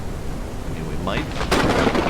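Thunder during a storm in the video game Forever Skies, a low rumble that builds and then breaks into a louder crack and roll over a constant wash of storm noise.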